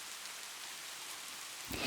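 Steady rain falls in a dense, even hiss, soft and continuous, with a brief louder rustle near the end.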